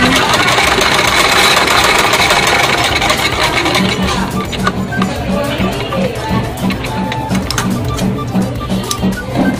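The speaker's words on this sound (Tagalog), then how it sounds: "Testing muna natin yung setup nating sinulid sa makina." A sewing machine stitches in a rapid, steady mechanical rattle, loud and close, with a faint voice speaking now and then alongside the whirring needle.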